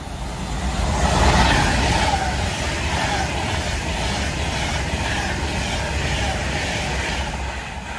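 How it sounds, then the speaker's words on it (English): An Avanti West Coast Pendolino train passes through a station, a loud, broad rushing roar that swells early and holds steady for several seconds before easing slightly. "Avanti West Coast service from London Euston to Manchester Piccadilly."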